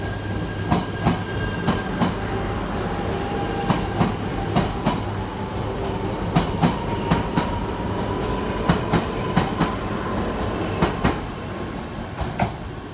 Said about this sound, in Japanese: 翼122号東京行き発車していきましたね。